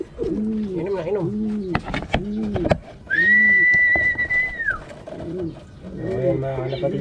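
Pigeons give close, repeated soft coos in a steady rhythm while drinking water, and a clear whistle cuts in midway.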